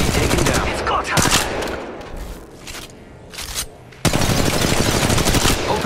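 Rapid gunfire bursts in the battle royale shooter Apex Legends Mobile, loud and dense, easing into scattered shots before a sudden heavy volley resumes.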